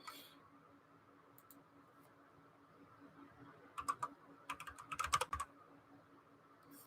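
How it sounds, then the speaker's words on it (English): Quick bursts of computer-keyboard typing as a chat message is entered during a riot-helmet livestream. The keystrokes are close and fairly soft, clustered in the second half over a low steady room hum. "So I'll type it in the chat for you."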